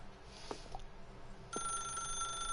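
A telephone rings in the video game The Stanley Parable, two short ring bursts starting the clip, then a sustained bright electronic ringing tone that continues steadily to the end over a quiet room hum, with no talking.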